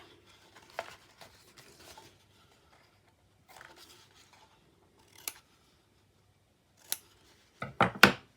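Scissors snip away a tab of a stamped paper box in a quiet room, making scattered soft cuts followed by a few crisp, louder snips that cluster near the end, with no talking.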